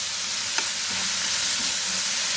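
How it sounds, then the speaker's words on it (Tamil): Drumstick flowers and onion sautéing in oil in a pan over a low flame, giving a steady close sizzle with a few soft stirring scrapes and no voices. "நல்லா வதக்கணும்."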